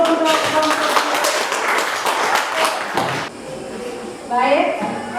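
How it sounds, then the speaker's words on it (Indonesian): A classroom of students applauds a student group: a few seconds of dense, lively clapping that cuts off abruptly, followed by quieter room noise and talking. "Kasih aplaus dulu untuk kelompok 2."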